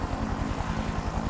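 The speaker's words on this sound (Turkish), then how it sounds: "helikopterle gelmiş." A cartoon helicopter arrives in the Doggy Don animated series, its rotor beating in a fast, steady, loud thump with an engine drone underneath.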